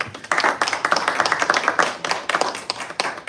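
A congregation at a Sabbath service claps together, a lively burst of rapid, uneven hand claps close by that keeps going for a few seconds.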